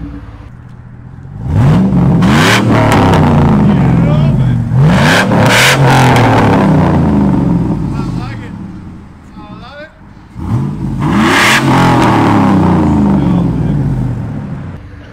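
A 2006 Chevy Silverado LS with a 5.3L V8 and dual exhaust through a Black Widow Angry Housewife muffler revs hard in several loud, close bursts with deep rumble between, while people talk nearby.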